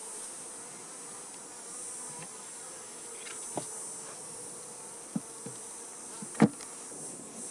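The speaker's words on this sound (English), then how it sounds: "they get a little loud because they're buzzing around" Honey bees buzz around an opened hive during a honey harvest, a steady, fairly faint drone throughout, broken by a few sharp knocks and clicks from handling the boxes.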